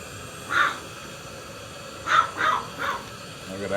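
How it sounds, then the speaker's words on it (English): Dogs bark in short, sharp yelps somewhere in a home kitchen: one bark, a pause, then a quick run of three, moderately loud over a low background hum. "shush, crazy dogs"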